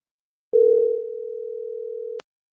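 During an outgoing phone call, a single steady electronic ringing tone sounds, clean and mid-pitched. It starts after a short silence, holds for under two seconds and stops abruptly with a click.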